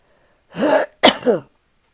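Two short, harsh throat-clearing bursts, close up, separated by a brief pause, with no talking.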